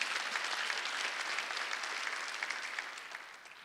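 A church congregation claps steadily through a Sunday worship service, a dense, continuous patter of many hands that fades slightly toward the end, with no voices over it.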